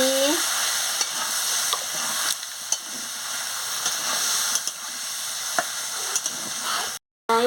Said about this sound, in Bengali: সর্ষে বাটা দিয়ে দিচ্ছি দিয়ে ভালো করে নাড়িয়ে নিচ্ছি